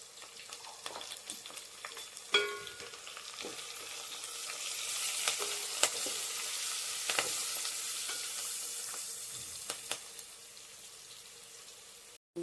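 Boda kakarakaya (spiny gourd) frying with curry leaves and turmeric keeps up a soft, steady sizzle, with occasional spoon clinks and stirring knocks, no talk.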